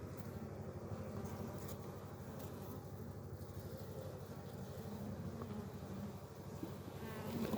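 Honey bees crawl over a beehive frame holding brood and larvae, giving a continuous low buzzing drone that stays steady and moderately close, with no speech over it.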